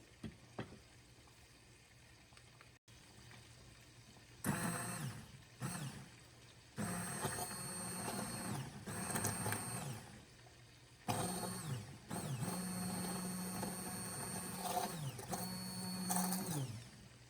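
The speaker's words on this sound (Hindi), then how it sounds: "अब हम इसके अंदर में भी मशीन चलाकर इसको पूरा ब्लेंड कर लेंगे।" A kitchen blender whirs through softened ingredients for homemade karahi masala, starting after a quiet pause in loud bursts of motor drone broken by short stops, close by and with no talk.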